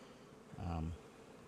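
A single honeybee buzzes past close by for a brief moment during hive work, a short droning hum against quiet background noise.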